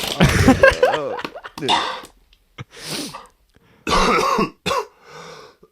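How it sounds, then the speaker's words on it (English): Several harsh coughs burst out in quick succession, loud and close, with short gaps and a throat-clearing rasp between them. "Couple coughs."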